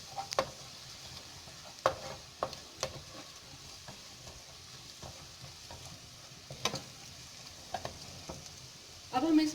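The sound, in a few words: cumin and onions frying in a pan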